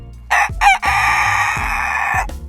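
A Silkie chicken crowing up close, a loud strained cock-a-doodle-doo with a rising opening note and a long held call, heard alone.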